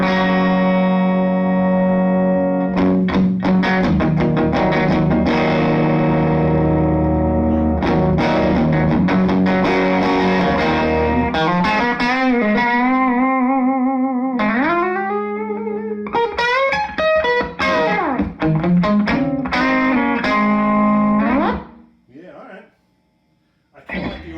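Distorted electric guitar through a Fender Deluxe-style AB763 amp with long-tail-pair phase inverter, ringing chords and bending lead notes, loud and close, fading out at the end.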